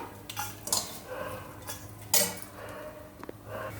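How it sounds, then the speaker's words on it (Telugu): A spoon scrapes and clinks against a pan and bowl as fried tempering with curry leaves is moved out of the pan. There are several sharp metallic taps and softer scrapes, close up, with no talking. "ఇప్పుడు ఈ పోపు అయితే గిన్నెలో తీసేసుకుందాం."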